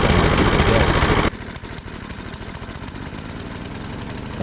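Snow blower engine running just after its first start of the season, having sat outside a full year: a loud, choppy rumble that drops to a steady idle putter, heard close by.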